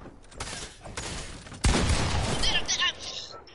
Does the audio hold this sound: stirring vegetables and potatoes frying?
no